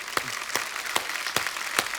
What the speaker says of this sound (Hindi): एक बार बिग बुल की पूरी टीम के लिए जोरदार तालियां हो जाएं।